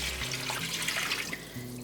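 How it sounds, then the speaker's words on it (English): Two cups of water poured into a pan of vegetables while making a chicken enchilada casserole, a steady splashing rush that runs throughout, close and fairly loud, with no talking. "I'm gonna add 2 cups of water."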